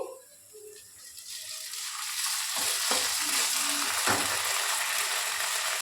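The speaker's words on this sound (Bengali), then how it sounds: "এখানে এর ভিতরে আমি একটু আদা জিরে বাটা অ্যাড করছি।" Ginger-cumin paste drops into hot oil and sizzles steadily, loud and close, for a silver carp curry, after a quieter start with faint voices.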